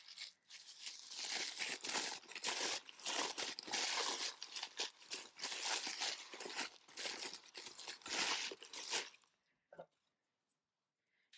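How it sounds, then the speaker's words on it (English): Black deli paper crumples in close, continuous crinkling bursts for about nine seconds, then stops into near silence with one faint rustle. "So let's try the crumple technique."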